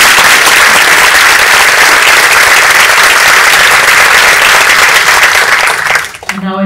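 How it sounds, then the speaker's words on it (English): A large audience at a graduation ceremony claps steadily in loud, dense applause that fills the hall, then fades abruptly near the end as a voice begins. "Big applause, please."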